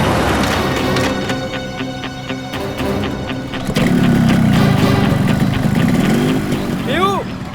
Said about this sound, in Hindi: बाइक स्टार्ट हो गई